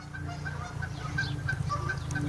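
A group of ducks, including wood ducks, calling outdoors: repeated short, nasal squeaks and honks overlap against steady background noise, fairly close and continuous.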